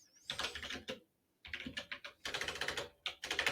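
Fast, hard typing on a computer keyboard, dense bursts of clattering keystrokes close to the microphone, broken by a short pause partway through.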